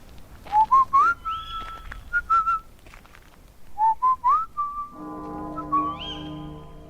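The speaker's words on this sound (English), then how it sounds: "While Anchor whistles in the shadows" A character in a radio drama whistles a short melodic phrase twice, clear and close in a quiet, shadowy setting, with a low sustained tone entering near the end.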